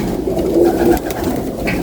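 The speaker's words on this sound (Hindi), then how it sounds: "ये हमारे काले जहरीले कबूतर हैं।" Black pigeons, kept by a pigeon fancier, cooing in a steady low murmur that runs throughout, close and fairly loud, with no talk over it.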